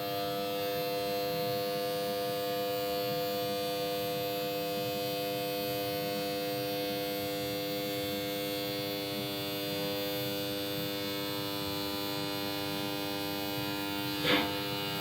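A Subaru 700 horsepower fuel system module runs steadily at boost pressure with the injectors flat out, giving a constant close electric whine and buzzing hum, and one brief click near the end.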